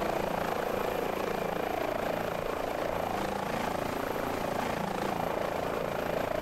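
An Airbus H145 helicopter in Microsoft Flight Simulator 2020 drones steadily over the Grand Coulee Dam area, its rotor and engine a constant, dense whir with no pauses or changes.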